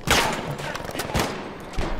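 Rapid gunshots crack out in the video game Battlefield Firestorm, coming in several short bursts about a second apart, loud and punchy over a noisy battlefield background.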